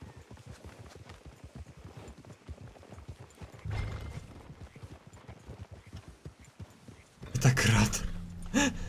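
Horse hooves clip-clopping in the Red Dead Redemption 2 video game, a steady rapid patter under game ambience, with louder noisy bursts near the end.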